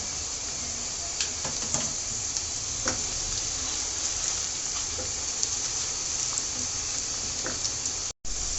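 Whole spices, cinnamon, cardamom, black pepper and cloves, frying in oil for beef bhuna, a faint even sizzle and hiss with scattered light stirring clicks, briefly cutting out near the end.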